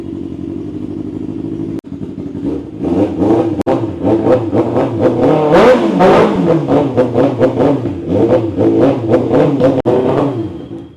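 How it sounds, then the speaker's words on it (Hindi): A 2024 Kawasaki ZX6R with no exhaust fitted and a catalytic converter inside revs up loud and close, rising through repeated blips, then settling into a rough, uneven idle with a couple of sharp clacks along the way. "सुनो इसको बिना एग्जॉस्ट की साउंड"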